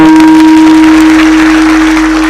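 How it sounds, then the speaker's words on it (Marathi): Audience at a comedy kirtan applauding for Manoj Dada, a loud dense wash of clapping from a crowd, heard through a steady hum from the sound system. "मनोज दादांसाठी एकदा जोरदार टाळ्या वाजवा"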